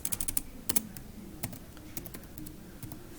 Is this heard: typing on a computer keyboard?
yes